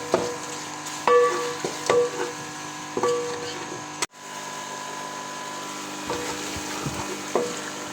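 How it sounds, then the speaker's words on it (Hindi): Cumin seeds and ground spices sizzle steadily in a hot pan for a mixed vegetable dish. A spoon stirs them with several distinct clinks and scrapes over a continuous close frying hiss. "इसको अच्छी तरह भूनना है मेरे मसाले को।"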